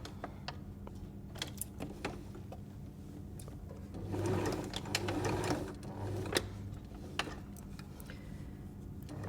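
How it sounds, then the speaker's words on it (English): A sewing machine stitches the outer fabric of a cutlery pouch along a seam line in a steady mechanical run, with faint ticks and handling clicks around it and a slightly louder burst of stitching in the middle. "And I shall sew the outer first of all from that seam line"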